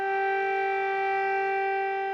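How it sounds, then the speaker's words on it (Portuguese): Air raid sirens sound over a bombarded city in a loud, steady, unbroken tone that holds throughout with no voices. "sirene tocando sem parar quase"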